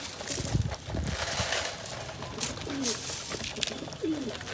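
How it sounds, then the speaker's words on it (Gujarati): Wild pigeons coo softly and low in a few brief calls spread over several seconds, set against an outdoor background of scattered knocks and rustling. "અને આ જંગલી કબૂતર છે"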